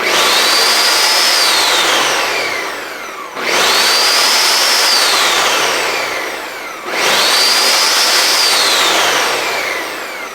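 A Ninja Foodi Power Pitcher blender runs a smoothie program. Three loud, roaring pulses rise and fade in a repeating cycle, each lasting about three seconds with brief dips between, close and alone.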